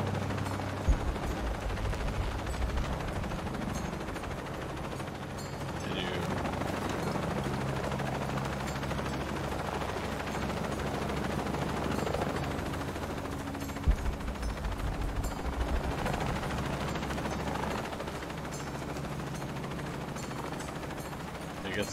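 A helicopter drones steadily in the video game Shadow of the Tomb Raider, its rotor rumble filling the scene while scattered bursts of gunfire and occasional sharp impacts punctuate it, with voices speaking at times.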